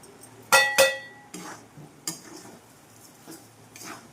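A spoon scrapes and clinks against a pan while moong dal halwa is stirred, with two sharp metallic knocks at first and then a few softer scrapes, close and fairly quiet.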